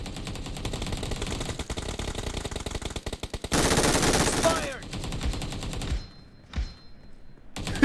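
Rapid gunfire from the PUBG Mobile battle royale game rattles in dense automatic bursts, with a loud, broadband blast in the middle and a few sharper single shots and game effects toward the end.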